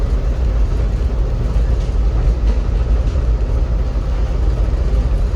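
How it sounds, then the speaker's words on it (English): A Metra commuter train runs at about 70 miles an hour, a loud, steady low rumble of wheels and carriage with faint rhythmic clatter, heard from inside with no talking. "doing 70 miles an hour on a commuter train"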